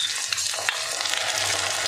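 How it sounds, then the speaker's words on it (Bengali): Ginger and garlic paste sautéing in hot oil in a pan, a steady close sizzle with a couple of faint utensil scrapes, brief and continuous. "আদা রসুনটা দিয়ে কষিয়ে নেব"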